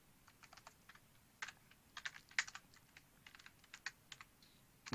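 Quiet computer keyboard typing as HTML code is entered, scattered crisp key clicks in an uneven rhythm over a faint background, close but soft, with no voices.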